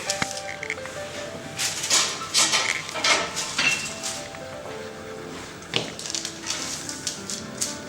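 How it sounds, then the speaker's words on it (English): A small focaccia on a Redrock baking stone goes into a hot oven, about 220 degrees. Close, irregular clinks and clatters of the stone and metal being handled come in scattered bursts. "And we're going to put this little focaccia in the oven."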